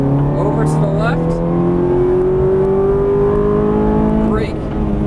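A Ferrari 430 on a race track accelerating hard, its engine note climbing steadily in one loud, continuous sustained pull, with a voice coaching over the roar.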